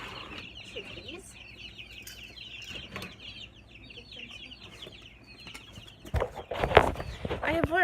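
Chickens on a small farm cluck and chatter at a moderate distance over a steady background, and a louder burst of activity with possible wing flapping comes near the end.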